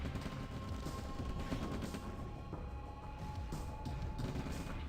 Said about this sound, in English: now this artillery is actually going to be pretty nice. It's going to slowly clean this up